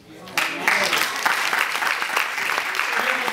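A chapel audience at Shorter College breaks into applause after a short pause, the clapping swelling quickly and holding steady and fairly close, with a voice faintly audible beneath it.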